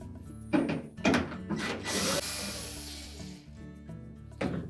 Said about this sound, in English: we're going to begin by removing 4 screws that secure this control housing to the ceiling of the fresh food compartment